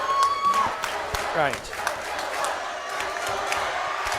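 Crowd at a playoff high school boys' basketball game cheering and clapping in a steady dense roar, with whistle-like tones and a commentator talking over it.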